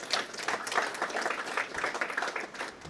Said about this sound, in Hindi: बिल्कुल ताली मत बजाइए